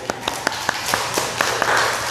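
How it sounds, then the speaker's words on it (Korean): Audience at a church worship service clapping briefly after being asked to, with about ten scattered, fairly sparse hand claps over two seconds rather than a full ovation. "박수 한번 쳐주세요"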